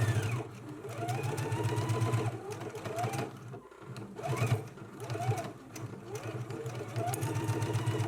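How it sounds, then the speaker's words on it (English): A serger runs in steady bursts finishing a jacket sleeve seam, its fast mechanical chatter pausing briefly and starting again, close and moderately loud. "then finish off your seam with your serger"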